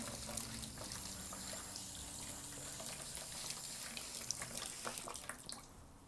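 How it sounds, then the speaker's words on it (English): Steady running water sprays and splashes continuously from a shower-style setting, rinsing soap off a butterfly powerwash tumbler at close range, with no talking. "I'm going to go ahead and keep rinsing it until all the soap comes off."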